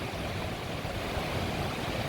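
A small stream of water trickles into an outdoor pool, a close, steady broadband rush with no breaks.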